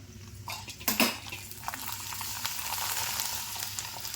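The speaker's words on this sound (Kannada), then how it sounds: "ಎಣ್ಣೆ ಅಂತ ಬಿಸಿ ಆಗ್ಯದ ನೋಡಿ ಪಾಪಡ ಹಾಕೊಲತ್ತೀನಿ" Papad dropped into hot oil, a sharp burst of sizzling with a clink of a utensil against the pan, then a steady crackling fry up close, no voices.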